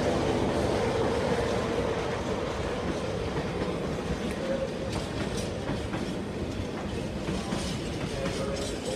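A container freight train rolls steadily through Peterborough station, a continuous loud rumble with rhythmic clickety-clack of wheels over rail joints and occasional faint wheel squeal.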